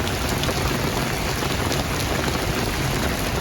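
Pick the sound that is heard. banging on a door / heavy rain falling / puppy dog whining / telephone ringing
heavy rain falling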